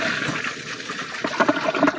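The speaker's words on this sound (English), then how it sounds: "Okay, that's one flush." American Standard toilet flushing during a test with chocolate syrup on the sidewalls, heard as a short close-up gush of swirling, gurgling water lasting about two seconds.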